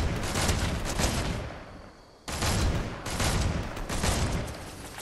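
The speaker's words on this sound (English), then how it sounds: "I'm getting shot from the other side now" Heavy gunfire in Fortnite aimed at the player, rapid continuous bursts of shots, a brief lull midway, then the barrage resuming loud and close.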